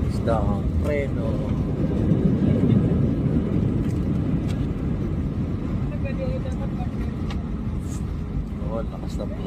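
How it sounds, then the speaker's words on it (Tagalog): AirAsia airliner decelerating hard on the runway at Davao International Airport after touchdown, heard from inside the cabin as a steady loud roar of reverse thrust and rumble throughout, with faint voices now and then. "Lakas ng preno ng AirAsia."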